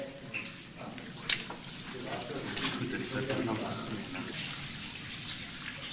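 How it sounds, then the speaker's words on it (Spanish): Surface water seeps down a deep cave wall in a soft, continuous wet trickle with occasional drips, while a voice speaks over it. "Filtraciones de agua procedentes de la superficie rezuman a lo largo y ancho de esta pared."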